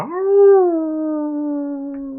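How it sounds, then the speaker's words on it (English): Hounds give one long, drawn-out howl that rises, then holds steady and slowly fades over about two seconds. It is fairly loud and heard alone, set in a dark fantasy tabletop game scene. "you hear off in the distance just the sharp howl of"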